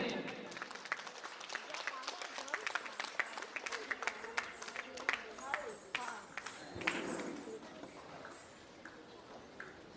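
A crowd claps for young students at a dance, music and recitation certificate ceremony. The hand claps are sharp and overlapping and go on for about ten seconds, then thin out toward the end, with voices murmuring underneath.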